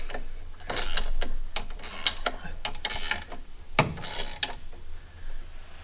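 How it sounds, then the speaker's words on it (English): Tightening bracket bolts while installing an Apache Backcountry LT track conversion kit on a snowmobile, close bursts of ratcheting clicks and metallic rattles in an uneven rhythm. "So we'll tighten bolt these up like so."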